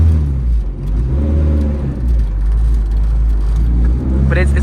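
A heavily modified Honda CRX with VTEC is driven on San Francisco streets, its engine droning loud and close with rising revs while people talk inside the car.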